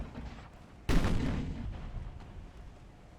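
Battlecruiser main guns fire in Ultimate Admiral: Dreadnoughts, a single loud sudden boom over a quiet background, followed by a rumble that slowly fades over about two seconds.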